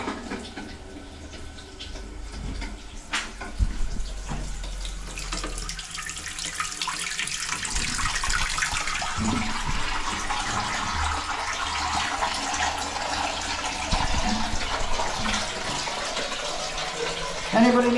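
Water runs steadily into a toilet cistern as it refills after a flush, a continuous hiss and trickle building over time, with a voice speaking intermittently over it.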